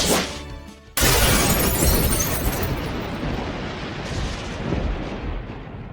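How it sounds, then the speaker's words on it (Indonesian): A giant curse figure shatters into pieces as an anime sound effect: a sudden loud burst of crashing, breaking debris that rings out and slowly decays over several seconds. "Dan seketika, ia pun hancur berkeping-keping."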